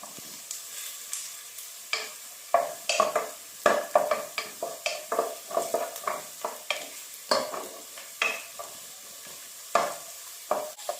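Rice stirred and roasted in ghee in a pan for ghee rice, with repeated scraping strokes of a spoon over a steady, soft sizzle, close and fairly quiet, no talking.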